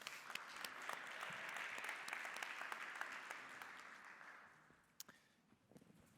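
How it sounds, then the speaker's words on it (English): An audience at a transport industry panel discussion claps for the experts in a sustained round of applause that gradually fades away. No one speaks. "hands together for some applause for our experts"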